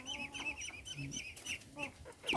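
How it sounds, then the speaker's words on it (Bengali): Two hens, one black and one golden, cluck close by in short, irregular bursts of chattering calls across a couple of seconds. "এখানে আমার মুরগি দুটো চলে আসছে এই আমার দুটো মুরগি আছে"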